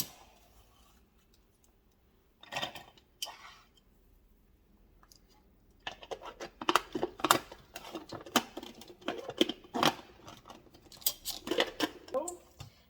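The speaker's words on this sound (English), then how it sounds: "the first thing we're going to do is slice and dice half of an onion" Half an onion being sliced and diced on a cutting board for Cuban picadillo, with rapid, crisp knife taps and chops arriving in quick irregular bursts, close and fairly loud after a few isolated cuts.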